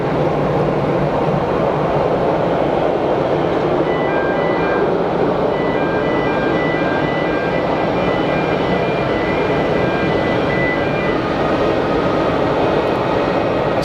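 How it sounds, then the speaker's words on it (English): Steady distant roar of an Etihad Boeing 787 Dreamliner's engines as it rolls down the runway at Geneva Airport for takeoff, a broad continuous rumble with a faint high whine. "Etihad Dreamy is rolling."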